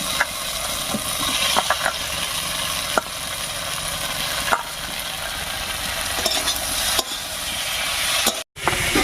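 Brinjal pieces added to a pan of well-fried spice paste for a village river small-fish curry, frying with a steady close sizzle and occasional stirring knocks, no talk.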